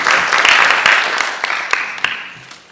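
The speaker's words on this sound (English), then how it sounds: "Clap it up for Luke." An audience at a school board meeting claps for a high school student, a dense burst of applause that thins out into scattered claps before fading.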